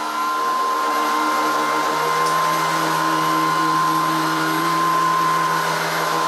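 A Shark Vertex cordless stick vacuum runs steadily on carpet, its loud, continuous motor whine holding one pitch with no talking over it.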